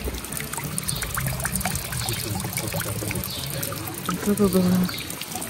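Water runs from an unusual tap in a Pyrenees village in Spain, a steady close trickle and splash under excited talk, with a brief gurgling burst near the end.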